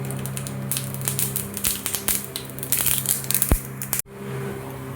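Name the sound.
mustard seeds added to hot oil, crackling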